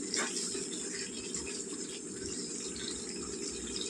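A large glass of water pours into a pot of home-cooked chicken curry, a steady gushing splash running evenly and close throughout, with no talking.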